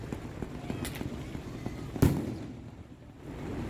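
Fireworks burst at the Redwood Casino Fireworks Show on the Nisqually Reservation for the 4th of July, with one sharp, loud explosion midway through, set against a steady outdoor rumble and faint background chatter.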